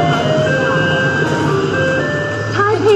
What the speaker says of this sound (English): The melody is a reminder that it's time to take out the garbage.